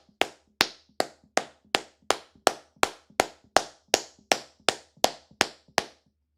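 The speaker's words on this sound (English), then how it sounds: "Sorry for those loud-ass claps." Loud, close hand claps in a steady rhythm, about fifteen sharp claps roughly every 0.4 seconds, each one crisp against near silence.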